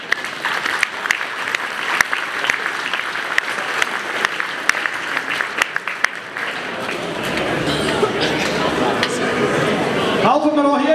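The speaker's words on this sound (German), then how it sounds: "ich glaube, auch hier ist ein kräftiger Applaus angebracht für die drei wunderbaren Kategorien" Audience applause at the Sorexpo 2019 Kantonscup for three award categories: steady, dense clapping from a large crowd that swells slightly toward the end before a sudden change.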